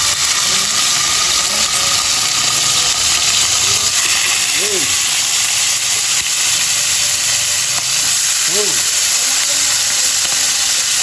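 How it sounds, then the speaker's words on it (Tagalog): Fish frying in bubbling oil in a pan, a steady close sizzle and hiss running throughout, with a few brief voices or calls breaking through in the background. "2 putahe ang lulutuin ni Larry Boy, sinabay na niya magprito ng isda."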